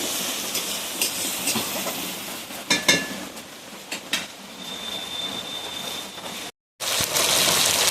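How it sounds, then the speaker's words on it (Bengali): Steady broadband hiss of heavy rain, fairly faint, with scattered sharp clicks and taps and a brief dropout near the end. "আমাদের এদিকে খুব বৃষ্টি হচ্ছে।"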